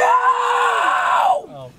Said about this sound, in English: scream if you had fun.